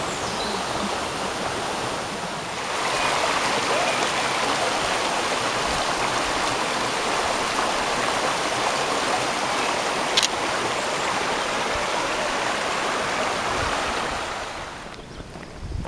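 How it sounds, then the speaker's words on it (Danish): Water rushes steadily through a small stream around someone standing in it barefoot, a dense, continuous close hiss that stays even for most of the stretch and fades near the end. "det er så dejligt at stå her med fødderne i vand"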